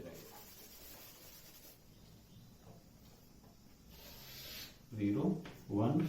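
Pen or marker strokes scratch across a board or paper while numbering rows and columns, soft sliding rubs with a couple of louder, closer strokes near the end.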